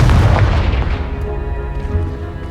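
A Confringo blasting spell explosion in Hogwarts Legacy, a loud deep boom at the start that rumbles and slowly decays with a faint crackling tail.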